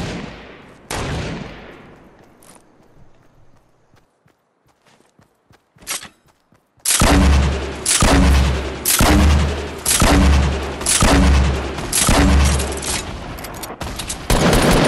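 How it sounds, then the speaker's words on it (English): Fortnite sniper fire: a sharp shot near the start, then a dense run of loud, heavy gunfire bursts in a steady rhythm with some isolated shots before, close and dominant with no talk. "Your boy just sniped him out of the golf cart"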